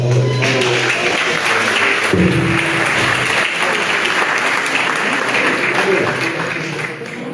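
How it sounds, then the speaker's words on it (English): A crowd applauds steadily and loudly for several seconds at the Liberia 2025 Investment Conference, EJS Ministerial Complex, before the clapping starts to fade, with a voice briefly audible at the start. "Another round of applause."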